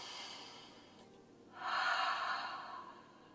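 A soft breath out fades and then a deeper inhale swells and slowly releases, a close, quiet airy rush with no talk.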